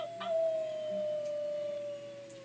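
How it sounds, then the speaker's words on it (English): In the Life Is Strange 2 video game, a wolf lets out a single long, falling howl that carries steadily before fading, fairly quiet and alone. "Oh mon dieu, des loups!"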